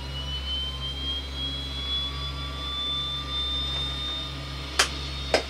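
The left turboprop engine of a Twin Otter spins up, a rising whine climbing steadily over a deep constant drone, close and loud, with two sharp clicks or knocks near the end.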